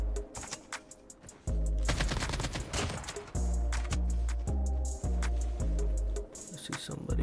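Gunshots in the battle royale of COD Mobile, loud and close, with repeated rapid bursts and single cracks that come in a regular stop-start rhythm while a person talks.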